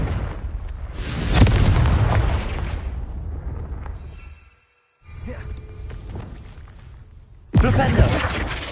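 Fire spell explosions in the video game Hogwarts Legacy: a loud booming blast with crackling rumble that fades, a brief silence, then more rumbling and a sharp second explosion near the end.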